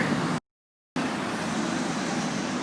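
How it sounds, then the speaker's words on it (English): Cars driving past on a road near tall Korean apartment blocks make a steady, moderate traffic wash that cuts out briefly near the start and then resumes. "Cars run on the right."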